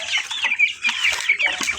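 Rhode Island Red chickens cluck in quick, irregular bursts close by, several birds chattering over one another in a short stretch of free-range farmyard sound with no voices.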